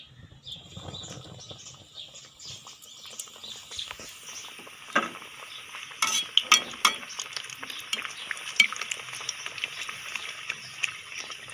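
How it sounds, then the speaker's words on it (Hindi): Chicken macaroni samosas frying in hot ghee, a soft crackling sizzle with light patter that grows busier and more popping after a few seconds, heard alone. "उसके बाद जैसे ही घी गर्म हो तो अब इसको फ्राई करेंगे।"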